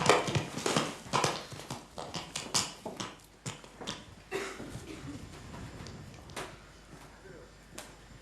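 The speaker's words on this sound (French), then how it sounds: "des hommes, c'est vrai, qui montent des chevaux à peine dressés" Horses ridden by Mongolian men on barely broken mounts, hooves clip-clopping in a quick uneven rhythm of sharp thuds that fade toward the end, with voices talking over them.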